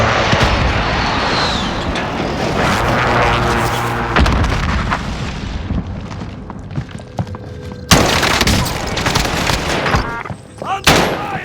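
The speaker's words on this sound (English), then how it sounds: "Taking fire here! Throwing frag grenade." Frag grenade blasts and gunfire in the video game Warzone on Rebirth Island, loud and dense with booming bursts, rapid shots and sharp cracks near the end, while a game voice calls out over the combat.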